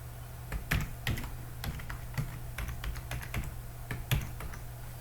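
Someone types a password on a computer keyboard, a quick uneven patter of close, crisp keystrokes with short pauses, heard alone over a low background hum.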